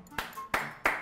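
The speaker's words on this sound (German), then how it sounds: "Ich weiß mir den Applaus zu schätzen." A few sharp, close handclaps of brief applause for a trainee waiter, three distinct claps in about a second with nothing else around them.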